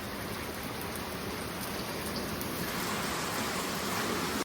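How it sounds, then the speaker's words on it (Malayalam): Heavy rain falls outside in a steady, dense hiss that continues unbroken and moderately loud throughout, with no voices. "പുറത്ത് നല്ല മഴ"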